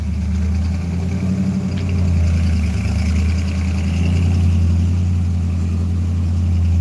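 A Ford Mustang Mach 1 engine idles with a steady, loud low rumble that swells slightly as the car creeps forward a short distance, with no talking over it.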